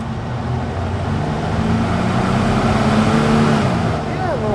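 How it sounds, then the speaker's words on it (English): A 2004 Chevrolet Blazer 4x4 with a Vortec 4.3 V6 and low miles runs steadily, a continuous low engine hum with faint road noise and no clear revving. "Yeah, a little Vortec motor runs well."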